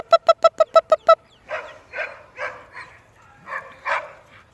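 Twelve-week-old Portuguese Water Dog puppies, out for exercise, make sounds in two parts: first a rapid series of about seven sharp, evenly spaced yips, then several softer, drawn-out whines and barks at irregular intervals.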